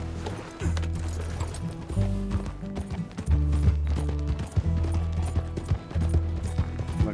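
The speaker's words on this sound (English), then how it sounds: "Damn it, I have to get my horse." Horse galloping in the video game Red Dead Redemption 2, a rhythmic run of loud hoof clip-clops over a low rumbling bed, with scattered mechanical clatter.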